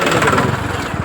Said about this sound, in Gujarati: ભાઈ ટ્રેક્ટર આવી ગયું.